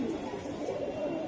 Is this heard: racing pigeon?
yes